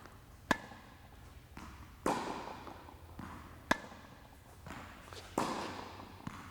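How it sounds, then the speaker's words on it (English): A tennis ball is struck with a series of regular forehand drives, giving four or five sharp pops spaced about a second and a half apart. Each pop is followed by soft court noise, and the hits are faintly distant, with no talk. "A couple forehands, regular forehand drives."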